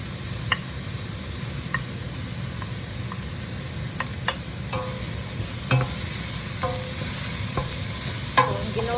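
Bell pepper and carrots are stirred into a ground-meat meatball soup, with sharp spoon clinks and scrapes against the pot at irregular intervals over a soft, steady simmering sizzle.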